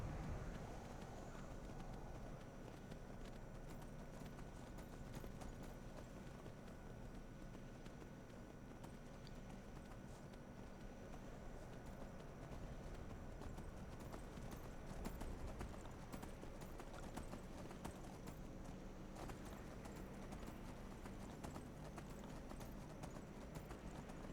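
Horse hooves galloping at an unhurried pace in Skyrim, a steady clip-clop rhythm carrying on under a continuous ambient wilderness bed, fairly close and even in level.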